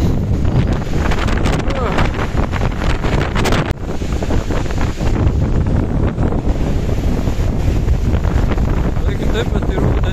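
Strong wind gusts buffet the microphone by flood-high water in October, a loud continuous roar with rumbling low end throughout, and someone talks over it.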